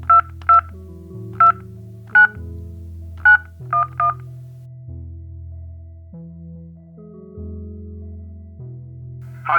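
A telephone number is keyed in as a run of short, sharp DTMF beeps, some paired in quick succession, over a droning harmonic tone that steps through changing pitches, with no voices.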